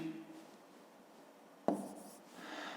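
A pen writes numbers by hand on paper during a Ukrainian fifth-grade long-division exercise, giving soft faint scratching strokes with one sharper tap partway through, quiet and close.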